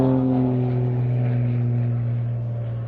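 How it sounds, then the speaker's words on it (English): An aerobatic airplane at an air show performing rudder kicks and an end-over-end flip, its engine a loud, steady close drone that fades slightly toward the end. "Now watch, he'll kick rudder left, rudder right, and flip the airplane end over end."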